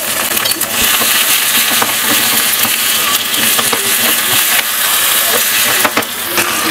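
Asafoetida and crushed garlic sizzle in hot oil for a tempering in a village-style Tamil kitchen, a loud, steady frying hiss with small crackles and the odd clink throughout.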